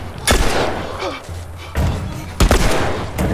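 Gunfire in The Last of Us gameplay: three sharp, loud shots spaced unevenly over a few seconds, each with a short booming tail.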